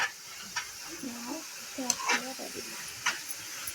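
Cashews fry in ghee in a pan, a soft steady sizzle under occasional scraping stirs of a spoon, heard close with faint room noise.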